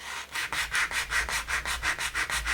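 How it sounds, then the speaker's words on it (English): Rhythmic back-and-forth rasping of heavy-grit sandpaper on painted wood, sanding through paint layers, about a dozen even strokes, close and fairly loud. "we're going to take a piece of heavy grit sandpaper, and we're going to sand through our layers"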